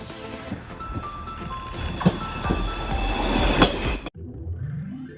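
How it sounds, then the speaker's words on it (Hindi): A Delsbo electric train runs along a rail track in Sweden with a steady rolling rumble, clicks from the rails and some faint squeals from the wheels, ending in a sudden cut. "डेल्सबो इलेक्ट्रिक ट्रेन।"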